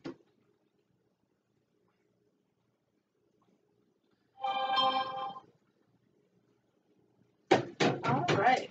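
A phone gives a single short alert with a ringing, harmonic tone in a quiet kitchen during dinner prep. A voice speaks soon after.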